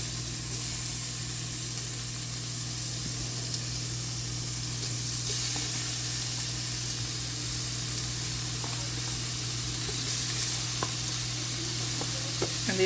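Shrimp seasoned with black pepper sizzle steadily in a frying pan over medium heat, a continuous close hiss and spatter with no talking.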